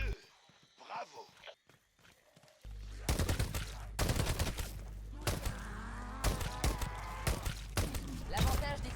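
Gunfire in the video game Call of Duty: Vanguard during the battle for Berlin: quiet voices at first, then loud, rapid bursts of shots and impacts crowd in, mixed with talking.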